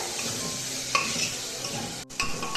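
Sliced onion sautéing in a pan with a pinch of turmeric, an even close sizzle with a couple of sharp spatula clinks and a brief break near the end.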